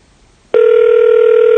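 A telephone starts ringing on a call after a short quiet moment, a loud steady electronic tone held continuously to the end, close and alone.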